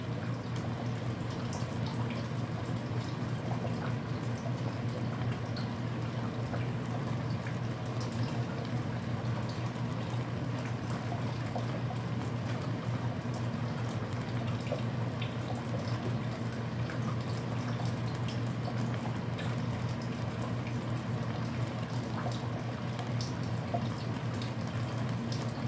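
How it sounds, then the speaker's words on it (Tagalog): Ginataang laing, a coconut milk stew, bubbling at a steady boil in a cooking pot, a constant close low rumble with faint dripping and bubbling texture throughout, no talking. "kumukulo na po. Kumukulo na."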